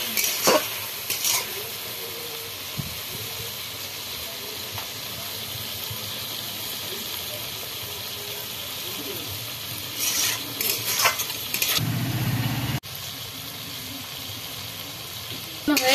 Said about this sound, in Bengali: সামান্য একটু জল দিয়ে ভালো করে কষিয়ে নেব।